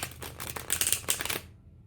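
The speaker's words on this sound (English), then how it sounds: "this deck is a dream to shuffle" A Rider Waite Smith tarot deck being shuffled, quick crisp riffles and card flutters close by, building through the middle and then stopping abruptly.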